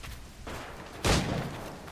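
Single sharp gunshot in the Assassin's Creed video game, a loud burst near the one-second mark over dull game ambience, with a softer thump just before it.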